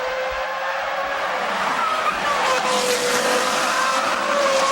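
Formula 1 race car at full throttle in the 2005 Italian Grand Prix, its engine screaming past 17,000 rpm in a loud sustained rising whine with tire noise, heard alone without talk.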